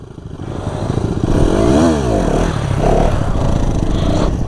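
A stock NS 200 motorcycle revs hard close by during wheelie training, its engine note rising and falling in a sweeping surge over a constant rough exhaust rumble and some clatter.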